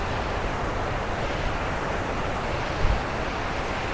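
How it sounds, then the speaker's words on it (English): Waterfalls below a bridge on a hike to Kinney Lake near Mount Robson roar as a dense, constant rush of falling water, loud and unbroken, with some wind buffeting the microphone and a brief bump near the end. "And we have more waterfalls now. Wow. That's just raging down there."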